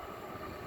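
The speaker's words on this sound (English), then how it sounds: "I can hear a train." A Perth-bound suburban electric train passing on the line, a continuous broad rumble and wheel hiss heard from nearby at low level, with no voices.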